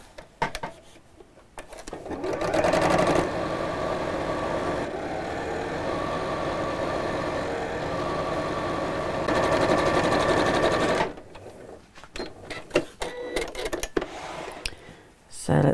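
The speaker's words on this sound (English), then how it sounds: "I'm going to sew all the way around the outer edge" A sewing machine stitches around the outer edge of a fabric messenger bag, running in a steady whirring burst of several seconds between quieter moments with some handling noise and a voice nearby.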